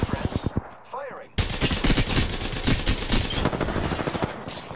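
Bursts of rapid automatic gunfire in the video game Apex Legends, a few sharp shots at first, then a brief lull and a dense, loud, sustained stream of rounds with talk mixed in.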